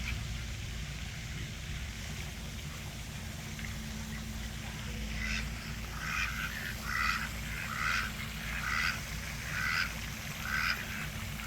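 Ducks on a small park pond planted with cypress trees quack in short bursts, a run of repeated calls over quiet outdoor background hum.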